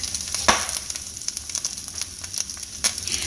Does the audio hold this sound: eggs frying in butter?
yes